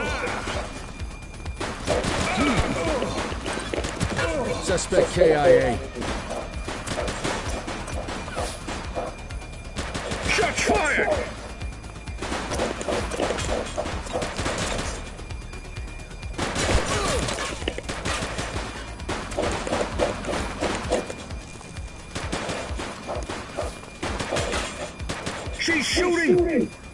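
Gunfire in The Precinct video game, repeated bursts and volleys of shots in clusters across the scene, fairly loud, with voices talking in between.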